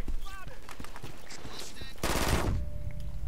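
Rapid firing from a heavy turret gun in BRINK, fast repeating shots that burst into a dense volley near the end, with voices talking over the game sound.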